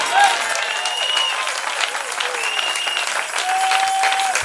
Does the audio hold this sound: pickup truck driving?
no